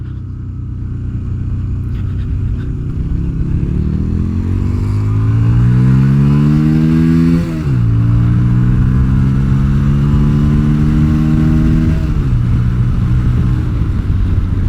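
A Yamaha Virago XV250 motorcycle engine after rejetting with a bigger main jet, revving loud and close: a steady rumble climbs through the rev range, drops sharply, then rises again and settles, alone without talk.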